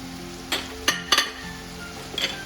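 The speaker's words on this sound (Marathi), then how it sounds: "आता आपण ही अगदी व्यवस्थित अशी भाजून घ्यायची तेलात, म्हणजे परतून घ्यायची अगदी व्यवस्थित" Val bean pods (field beans) being sautéed in oil in a pan for a Maharashtrian bhaji, with a steady faint sizzle and a few distinct spoon scrapes and clinks against the pan.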